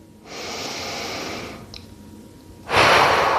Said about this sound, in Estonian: Sügavdame hingamist, hinga rahulikult sisse